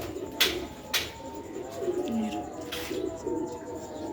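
A pair of green pearl pigeons coo low and close, with repeated soft calls and a few sharp flutters or clacks in between. No speech is heard.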